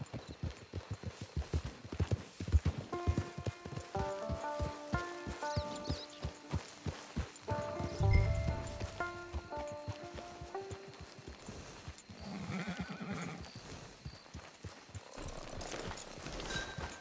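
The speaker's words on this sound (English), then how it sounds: "Get your horse." Horse hooves clip-clop at a steady walking rhythm in Red Dead Redemption 2, close and distinct, with a soft snort and a light musical tone partway through, then the footfalls fade into ambient outdoor noise.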